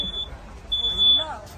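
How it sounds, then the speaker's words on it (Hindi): A fire alarm sounds inside a coach of the Ahmedabad-Gorakhpur Express train. Its high, steady electronic tone beeps twice, a short burst and then a longer one, over rumbling train noise with a faint voice nearby. "देखिए मेरे कोच में फायर अलार्म बज रहा है"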